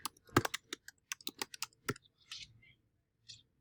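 Someone types a short comment on a computer keyboard, a quick burst of sharp, close clicks and key taps that thins out into a few scattered presses before stopping.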